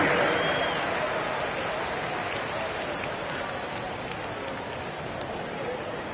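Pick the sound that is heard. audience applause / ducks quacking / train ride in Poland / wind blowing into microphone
audience applause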